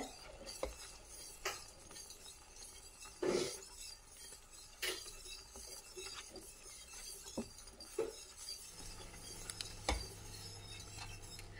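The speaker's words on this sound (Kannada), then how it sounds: "ಸೊ ಈ ತರ ಚೆನ್ನಾಗಿ ಸ್ಟಿರ್ ಮಾಡ್ಕೋಬೇಕು ಕೈ ಬಿಡ್ದಂಗೆ" Sirsi-style sugarcane juice manni thickens in a pan as a spoon stirs it, giving faint, scattered clinks and scrapes of metal against the pan over a quiet background.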